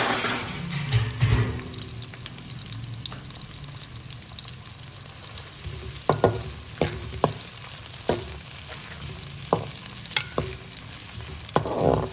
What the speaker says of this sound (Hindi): अब इसमें प्याज डाल दें, इनको अच्छी तरह ब्राउन कर लें।